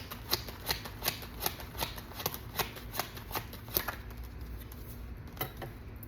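Tarot cards are shuffled and drawn by hand in a quiet room, producing a rapid run of crisp, close riffling flicks and snaps in an irregular rhythm, with no talking over them.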